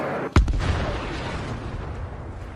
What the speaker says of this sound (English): Just look at how this powerful artillery unit destroys Ukrainian trenches.